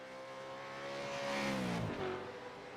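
Engines of V8 Supercars in a sim racing game at Virginia International Raceway, a steady droning whine that rises in pitch, dips sharply near the end, then settles, with no talking.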